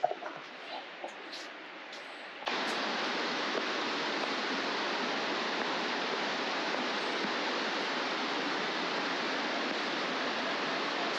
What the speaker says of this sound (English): I can hear the waterfall and I can hear people.